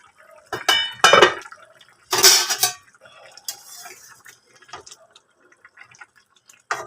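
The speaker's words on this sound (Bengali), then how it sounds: "ঢাকনাটা খুলে আপনাদেরকে দেখাই" The lid comes off a pot of cooking boal fish with onions and potatoes, producing loud metallic clanks and scrapes up close, followed by softer clinks and faint stirring.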